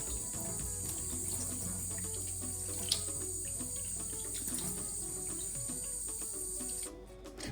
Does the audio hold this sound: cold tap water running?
yes